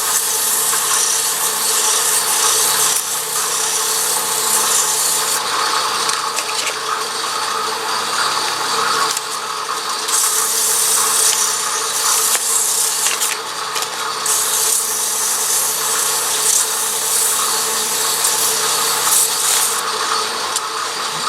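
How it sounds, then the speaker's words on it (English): A wooden Christmas ornament being sanded on a woodturning lathe makes a continuous, fairly loud rubbing hiss that swells and eases in long strokes, with no talk. "then what you want to do is just sand it a little bit"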